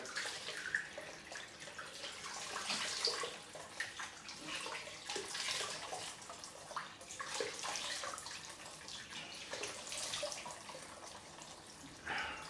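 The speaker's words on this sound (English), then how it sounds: "So I'm just going to wash off." Running water from a tap pours steadily and faintly as someone rinses off after a straight razor shave, a continuous hissing splash with small bursts of splashing, no talking.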